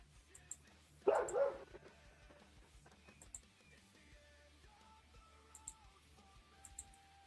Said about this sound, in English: so there was dog barking